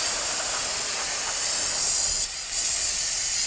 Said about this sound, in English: I'm just going to clean this up with some brake parts cleaner